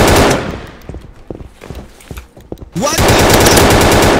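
Rapid gunfire in Battlefield 2042, with a few scattered close shots followed by a loud sustained burst of fast repeated blasts. A voice briefly exclaims between the shots.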